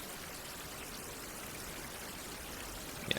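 Water pours steadily into a water tank in the survival video game Survival: Fountain of Youth, a constant soft rushing stream with no breaks, moderately quiet and heard alone, with a small knock at the very end.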